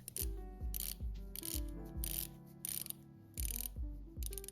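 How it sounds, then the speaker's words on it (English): Crisp, close ratcheting clicks repeat at a steady pace, about a dozen in a row, like a rotating bezel being turned notch by notch. "Let's take a listen to what the bezel sounds like."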